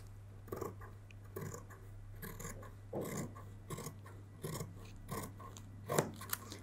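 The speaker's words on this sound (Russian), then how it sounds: "Все, начинаю кроить." Scissors cut out fabric pieces for a polo shirt with a series of quiet, close snips and rustling cloth, in irregular bursts about a second apart.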